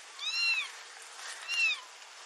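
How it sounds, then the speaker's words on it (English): A bigger cat hidden among rescued kittens gives two distinct meows about a second apart, fairly faint and slightly muffled, with no talk over them. "That sounds like a bigger cat."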